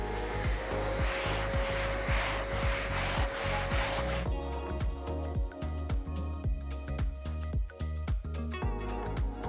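Wood being sanded by hand with a Contour DSB dust-extracting sanding block, a rhythmic scraping rub in repeated back-and-forth strokes, coarse and hissy at first, then drier and thinner.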